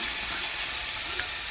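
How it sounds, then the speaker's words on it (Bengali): Fish curry masala sautéing in a pan, a steady hissing sizzle that runs evenly throughout at close range, with no voices. "মা ভালো করে কষিয়ে নিচ্ছে, অসম্ভব সুন্দর গন্ধ বেরিয়েছে"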